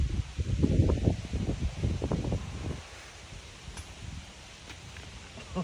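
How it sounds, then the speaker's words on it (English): Wind gusts across an open disc golf course at Heritage Park in Adrian, Michigan, with loud rustling bursts in the first half that ease into a steadier low breeze. "The wind is starting to pick up"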